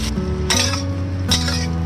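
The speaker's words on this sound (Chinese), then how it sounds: "接着放入白菜帮，开大火爆炒，炒2分钟" Napa cabbage stalks are stir-fried in a wok over high heat, with a steady loud sizzle and sharp spatula scrapes and clinks against the metal in a few quick strokes.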